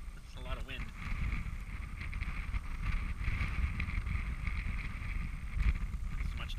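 Strong wind buffets the microphone outdoors at an ice fishing spot, a continuous low rumbling roar with gusty swells, while people talk over it.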